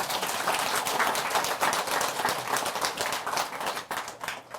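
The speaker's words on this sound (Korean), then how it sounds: "박수 쳐주세요." An audience at a Buddhist lecture gives a burst of enthusiastic clapping, dense and sustained applause for several seconds before it thins out.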